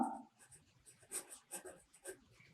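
A sentence being handwritten during a lesson, faint soft scratching strokes in short bursts with brief pauses between words, quiet and close, with no talk over it.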